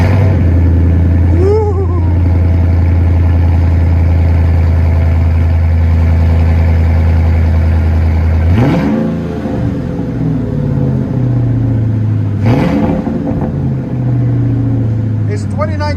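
2010 Ford F-250 5.4L V8 with a Carven R-Series exhaust, a loud deep idle rumble broken by two sharp revs that swell and fall back, heard close up.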